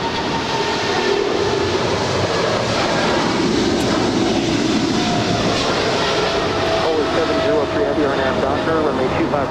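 An airliner taking off from a runway at LAX gives a loud, sustained, broad engine roar that holds steady for the whole stretch, with voices faintly present underneath.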